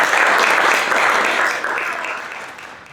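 Conference audience at a games event applauding, a dense wash of clapping that holds steady then tapers off toward the end.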